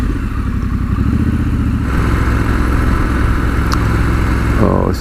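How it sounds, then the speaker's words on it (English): A 2019 Triumph Scrambler 1200 XC motorcycle engine rumbles loudly and continuously at close range while riding, its deep throbbing note holding steady with a brief rev change near the end and no talk over it. "You can loll up along and really enjoy the sound of this engine"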